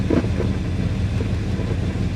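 A 1966 Ford Country Sedan engine idling, a steady low rumble with a continuous, slightly uneven throb, close and fairly loud, with no talking.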